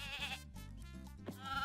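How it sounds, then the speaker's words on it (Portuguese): Sheep bleating from the video game Croc: Legend of the Gobbos, a loud wavering bleat over game music, with a second shorter bleat near the end. "Uma ovelha."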